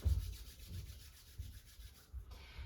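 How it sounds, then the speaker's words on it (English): Palms rubbed together during a kneeling yoga flow, a soft steady swishing friction that pulses in short strokes, close and quiet with no talking. "Rubbing the palms for a breath or two."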